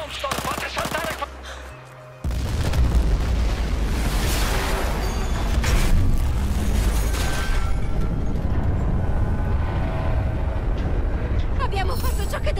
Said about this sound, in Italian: L'esplosione lo ucciderà!